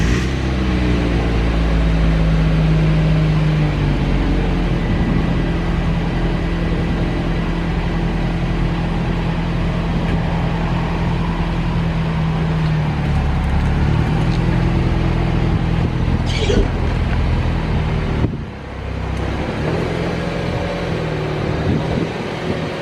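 Mazda Miata NB fitted with 18-inch wheels being driven, a steady low engine drone with road rumble throughout, broken by a brief lull near the end.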